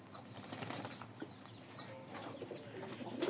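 Pigeons bathing on a hot day give soft, low cooing calls with brief wing flaps and light splashy rustles, faint and close-by against a quiet background.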